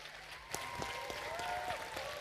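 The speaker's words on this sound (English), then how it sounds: "A big round of applause for him, please." Scattered, faint audience clapping as a speaker comes on stage at a youth festival, individual claps audible over a background tone, fairly distant and quiet.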